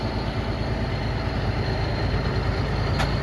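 Heavy diesel engine of a Wirtgen WR2500 soil stabilizer runs steadily at close range, a loud continuous low rumble with no talk over it.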